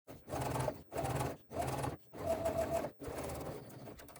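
A sewing machine top stitches a bag seam in four short bursts of whirring stitching separated by brief pauses, then a softer stretch of running, fairly faint and without talk.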